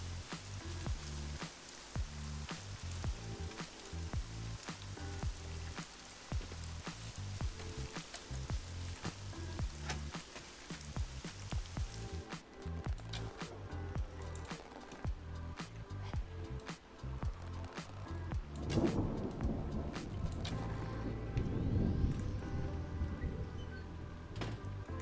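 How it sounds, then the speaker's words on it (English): Rain patters steadily in the survival video game SCUM, dense drops tapping on surfaces with sharp clicks, growing heavier and louder toward the end; no distinct thunder. "get out of the rain."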